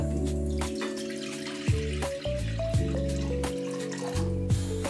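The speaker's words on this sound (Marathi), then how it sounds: "आणि याच्यात पाणी टाकूया आपण" Water pours steadily into a metal kadhai on a gas stove, a continuous splashing stream with resonant ringing tones that shift in pitch as it fills.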